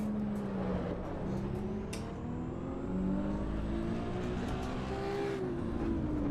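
Engine of a Prosimu T1000 street car in AC EVO, a steady droning note rising and falling gently with the revs as the car runs on track, continuous and fairly loud, with no talk over it.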